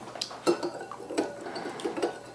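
A spoon clinks and scrapes against a metal pot while apples and water for apple cider vinegar are stirred, with soft repeated taps at an uneven rhythm, close up and fairly quiet.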